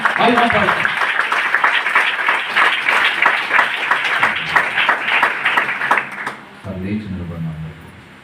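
A church congregation clapping together for God's name: loud, rhythmic, steady clapping for about six seconds that then fades, followed by someone speaking.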